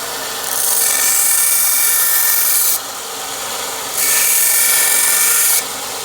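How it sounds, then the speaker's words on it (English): Sanding by hand with 120 grit sandpaper in a shop gives two long, loud, close scratchy strokes, each lasting a few seconds and separated by a short pause. "So 120 grit sand."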